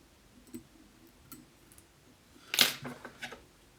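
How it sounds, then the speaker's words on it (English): Scissors snip excess thread while a fly-tying nymph is finished, a few light, sharp clicks followed by one louder close snip and a couple of softer trailing clicks, heard alone in a quiet room. "And snip any excess away."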